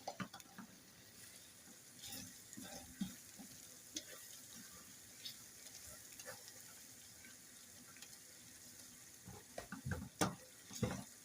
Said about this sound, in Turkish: içine attığımız naneyi güzel yağla, soğanla, salçayla güzel bir kavruluyor